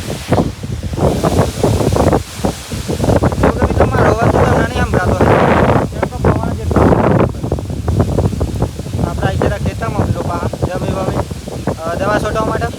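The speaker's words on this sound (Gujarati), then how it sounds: "આજે તો ફૂલ જ વાવાઝોડું આવી તો વાત ના થાય જો ખાલી પવન આવી" Strong windstorm gusts during the first monsoon rain, roaring and buffeting the microphone with loud rumbling bursts and rustling, while a person talks throughout.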